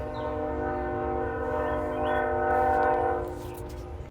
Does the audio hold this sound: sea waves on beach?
no